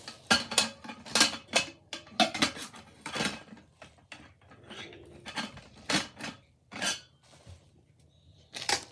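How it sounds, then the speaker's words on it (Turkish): Nurgaz camping cookware set, a pot, a pan and a shared lid, clanking as the pieces are nested together: a run of sharp metallic knocks and scrapes at an uneven pace, fairly close, with no talking. "Tenceremize ve tavam, tavamıza aynı kapak oluyor. Hepsi beraber bir arada tekrar iç içe koyalım arkadaşlar."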